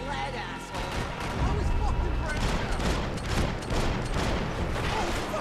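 Sniper gunfire and battle noise from the Max Payne 3 video game, dense and continuous with repeated sharp cracks over a loud, busy background.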